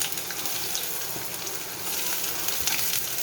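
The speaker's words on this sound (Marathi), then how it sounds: "कांदा छान परतून घ्यायचा 1 मिनिटभर." Onion frying in hot oil with garlic, cumin and mustard seeds: a steady, crackling sizzle that keeps up its hiss throughout, close by, with no talking.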